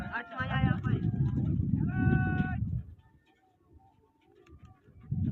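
Pigeons cooing in a pigeon-keeping competition, with repeated harmonic coos early on, then quieter scattered bird calls while people talk nearby.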